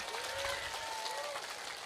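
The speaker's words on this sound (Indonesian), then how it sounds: "tepuk tangan dulu dong" Brief burst of crowd applause at a religious sermon gathering, praising the sound system, with a faint tone and voices mixed under the clapping.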